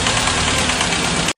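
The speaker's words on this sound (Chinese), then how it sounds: "冷车启动，发动机的上部会发出哒哒哒的响声。" A car engine on a cold start runs with a rapid ticking clatter from the top of the engine over a steady idle, close and loud, before cutting off abruptly.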